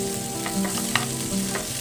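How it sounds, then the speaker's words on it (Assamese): Chopped onions frying in oil make a steady, close sizzle with stirring sounds and a brief clink, and no one speaks. "পিঁয়াজখিনি ভালকৈ ভাজি ল'ব লাগিব তেলত।"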